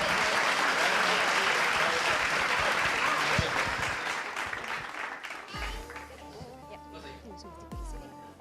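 An audience claps loudly at an annual dance programme, dense applause that gradually thins and fades, giving way to sustained instrumental tones as it dies out.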